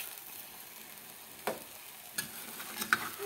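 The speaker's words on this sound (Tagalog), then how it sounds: "Haluin na lang po natin." Bitter gourd and egg stirred in a frying pan with a faint steady sizzle, broken by a few soft scrapes and clicks of the utensil against the pan; quiet and close, no talk.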